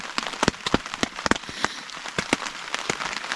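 Rain pattering onto a camping tarp on the Appalachian Trail, a steady close hiss broken by frequent sharp, loud drops striking the fabric at irregular intervals, with no voices.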